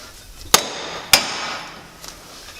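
A hammer strikes a metal threaded part twice, each a sharp close metallic clank about half a second apart, followed by faint lighter knocks and no talking.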